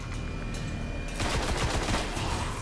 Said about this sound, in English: Now switch back to your rifle then.